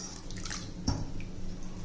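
Hot water is stirred into wheat rava porridge in a pot, giving close, wet sloshing and swirling with one brief clunk partway through.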